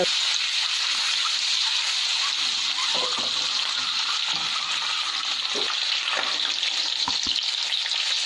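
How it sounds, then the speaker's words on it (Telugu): Boiled, peeled eggs fry with salt in a kadai, giving a constant bright sizzling hiss with occasional soft taps and clinks of a spatula against the pan. "ఇలా సాల్ట్ గుడ్లు కళాయికి అంటకుండా వస్తాయి. చక్కగా ఇలా ఫ్రై"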